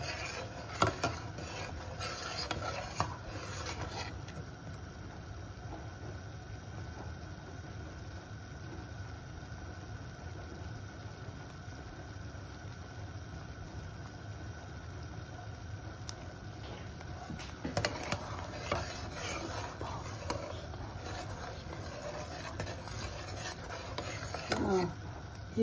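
Wheat flour roasting for halva in a pan over a very low flame, a soft continuous scraping and rubbing of a spoon stirring it, quiet and close with a steady low hum beneath.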